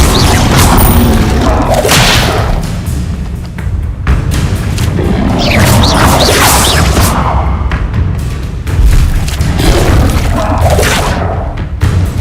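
The Incendio fire spell in Hogwarts Legacy is cast repeatedly, giving loud whooshing bursts and booms over a dense, continuous battle din.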